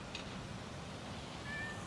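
Cats meow at a hotel in Kolympia, Rhodes, faint, brief cries nearly buried in steady wind-like background noise, with no talk.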